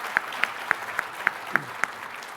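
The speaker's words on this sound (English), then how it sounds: "A round of applause for our panelists." Sparse, evenly spaced claps sound at a conference panel session, about seven distinct hand claps in a slow rhythm against a quiet room, faint and thin rather than a full round of applause.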